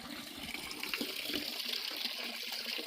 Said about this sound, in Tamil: இந்த நீர் ஊற்றை வந்து நான் இன்னும் அருகில் வந்து காமிக்கிறேன்